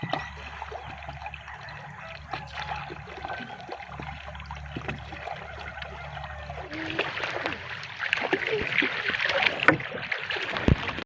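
A small fishing boat moves across calm water, with a low steady engine hum and faint trickling and splashing at the hull, growing brighter and busier near the end.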